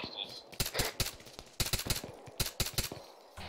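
Gunfire crackles in the military shooter Arma 3, with sharp shots in rapid bursts and short pauses between them, fairly close and punchy, while a player's voice comes in faintly between the volleys.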